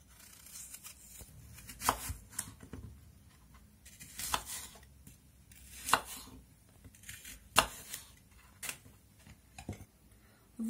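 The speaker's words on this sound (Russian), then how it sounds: "Яблоко порежем на части, предварительно удалив сердцевину." Antonovka apple being cut into pieces on a board after coring, with a series of crisp knife chops spaced irregularly and heard up close, with no voices.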